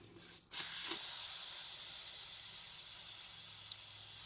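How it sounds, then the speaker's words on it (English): A steady, soft hiss of air rushing into a self-inflating sleeping pad begins suddenly and continues evenly, with no talking over it. "You can hear it. It's inflating itself up."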